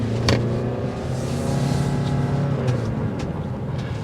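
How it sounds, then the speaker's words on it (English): A 2024 Toyota RAV4 Hybrid Limited engine runs steadily at a smooth, low hum, with a brief click near the start and a faint rise in revs partway through. "Let's hear that engine."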